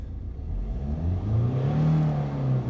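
The engine of a 2013 Ford Transit medium-wheelbase high-roof van with 70,000 miles is revved up, and its pitch climbs and holds high before easing off slightly.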